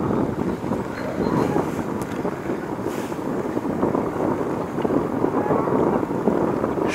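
Wind blows across the open upper deck of a boat under sunny skies, a steady broadband rush with gusty buffeting of the microphone, continuous and fairly loud, with no talking.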